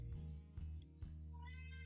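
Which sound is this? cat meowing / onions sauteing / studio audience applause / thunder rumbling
cat meowing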